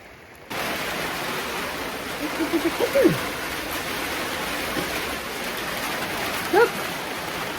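Heavy rain pours down steadily on an off-grid homestead, a dense, even hiss of water starting abruptly and continuing throughout, with a couple of brief faint sounds over it.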